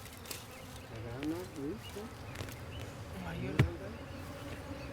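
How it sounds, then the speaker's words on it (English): Bees buzzing around a ground nest hidden in thick underbrush in Kenya, faint wavering drones passing close by over soft outdoor background with a brief knock. "the bees which make their nest in the ground are less aggressive than those living in the trees"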